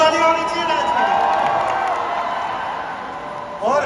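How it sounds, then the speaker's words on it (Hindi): Crowd at a Stree 2 event with Rajkumar Rao and Shraddha Kapoor cheering and applauding after a dance, a dense, steady roar of claps and whoops close by that holds throughout and swells again at the end. "एक बार जोरदार ताली होनी चाहिए नाच के लिए"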